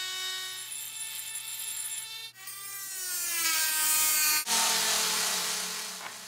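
A Dremel rotary tool on a flexible shaft whines at a high, steady pitch while sanding, its tone sliding and shifting as it loads and unloads, with a brief cut-out midway, loud and close with no talk.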